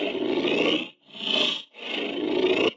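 Three rasping, throaty monster growls, synthesized in Serum, follow one another, each swelling and fading with brief gaps, heavy and synthetic in texture.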